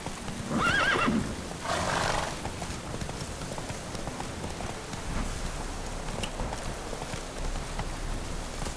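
A horse whinnies loudly in The Witcher 3: Wild Hunt, then hooves clop in a steady galloping rhythm beneath a constant rain-like hiss.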